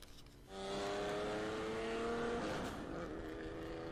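A Nissan Fairlady launches at the start of a race in the video game The Crew, its engine revving up loudly and steadily, then easing off slightly as it settles into speed.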